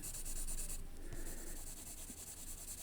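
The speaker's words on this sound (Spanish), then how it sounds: "Es un lápiz que yo uso mucho, me gusta mucho, se llama Palomino, de Blackwing" Blackwing Palomino pencil moving across paper, a quiet, close scratchy rubbing of graphite strokes in short passes, heard alone against faint room noise.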